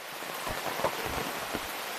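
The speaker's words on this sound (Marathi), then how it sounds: "पाऊस बघा कसलो पडता" Heavy rain pours in a steady, dense hiss with scattered louder splashes, close and continuous, no voices.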